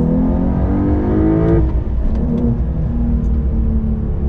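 A 2023 Porsche 911 Carrera T engine revs loudly and close, its pitch climbing and then dropping sharply as it rows through downshifts, with a steady throaty drone continuing afterward.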